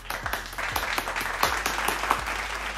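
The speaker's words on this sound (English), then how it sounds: "Clap." A small handful of claps, a sparse, irregular series of sharp hand smacks, close and moderately loud, over a low steady background hum.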